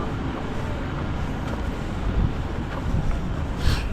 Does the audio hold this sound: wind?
yes